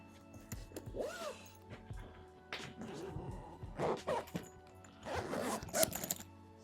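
Zipper on a pocket of a Travelpro Altitude business brief, pulled in several short rasping runs with small knocks and handling sounds between them, close and fairly quiet.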